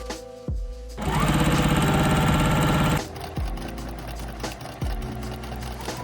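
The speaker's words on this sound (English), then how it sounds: "I have to go sew more Zodiac scrunchies." A sewing machine stitches scrunchies in a small studio, running in a fast, loud mechanical burst for about two seconds, followed by quieter intermittent clunks and thumps of handling.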